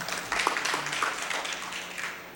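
Audience applause fills the hall at a Buddha vandana and reflection gathering in Akola, a moderately loud burst of many hands clapping that tapers off toward the end.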